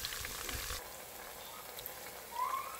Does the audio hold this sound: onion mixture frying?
yes